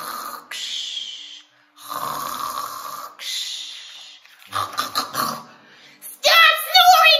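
Children imitate snoring in a string of loud, breathy snorts and rasping inhales, several separate bursts with short pauses, ending in a higher, squealing burst.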